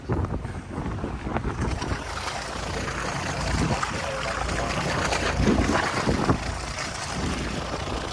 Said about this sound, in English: That was a quick boat ride to the Needles.